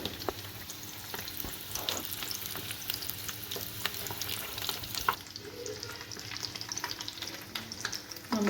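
Egg meat half frying in oil and being flipped over, a steady close sizzle with scattered scraping clicks from the utensil, fairly quiet and without speech.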